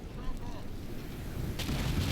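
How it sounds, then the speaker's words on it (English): A stationary Gatlock cannon fires in the video game Dragon Age: Veilguard. A low, continuous rumble is broken by a sudden blast near the end. "Now they're firing their stationary Gatlock cannon at me."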